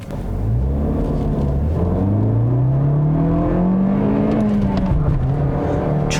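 A 2021 Toyota Corolla Apex with a naturally aspirated four-cylinder engine revs up steadily under acceleration, its loud, smooth drone rising in pitch and turning buzzier before easing off slightly near the end.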